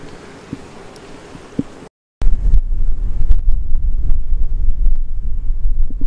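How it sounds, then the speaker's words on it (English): Wind buffeting outdoors, quiet at first, then after a brief drop to silence it gusts in loud, rough, continuous rumbling close to the microphone. "Oh, the wind."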